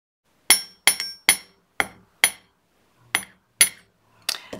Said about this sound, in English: So I'll hammer this other one.